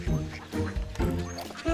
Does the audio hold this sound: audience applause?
no